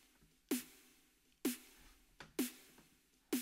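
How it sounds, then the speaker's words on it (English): Snare drum body sample with its click and low end trimmed away, sounding as a few sparse hollow hits with a short ringing tone after each, spaced about a second apart and heard alone. "the next one, which is the body of the snare, is just a sample, and I've cut away the click part of that sample here"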